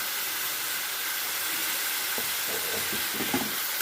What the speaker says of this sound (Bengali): বেটে রাখা পেঁয়াজটা হালকা করে ভাজা হচ্ছে